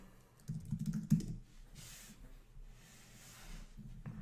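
Computer keyboard typing, a quick burst of keystrokes early on that fades into quiet room hiss, with light tapping near the end.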